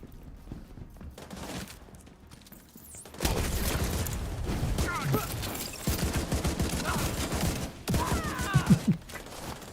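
Rapid bursts of gunfire in The Division rattle through a busy, noisy mix, intensifying after a few seconds, with scattered voices underneath.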